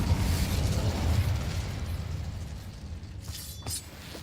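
Casting the Incendio fire spell in Hogwarts Legacy releases a loud, rumbling whoosh of flame that roars low and steady for several seconds, then gives way to a few brief crackling bursts near the end, with no talking.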